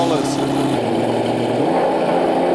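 A McLaren F1 GTR race car with a 640-horsepower McLaren BMW V12 engine, at a Silverstone shakedown in 1995, gives a loud, steady engine drone with a slight shift in pitch partway through.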